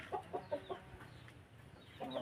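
Chickens kept as fighting-cock stock cluck in short bursts, a quick run of clucks followed by a pause and then another group, moderately close over a quiet background.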